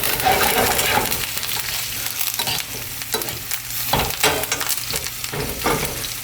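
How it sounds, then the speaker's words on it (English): A Wagyu NY strip steak sizzles loudly and steadily in a hot pan while it is basted with herbs, with occasional spoon scrapes and splashes over the constant frying hiss. "After you baste the steak a couple of times with those herbs, this baby is done."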